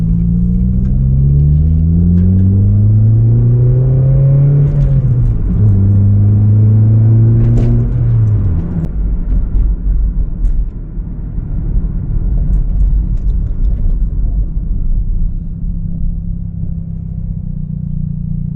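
A manual car engine with its idle set very low runs loud and near. Its tone climbs and dips, then sinks into an uneven, shuddering rumble with no talking.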